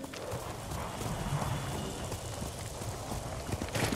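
Horse hooves clip-clop in a steady trotting rhythm in Ghost of Tsushima, mixed with soft ambient game noise and a few sharper hoof strikes near the end.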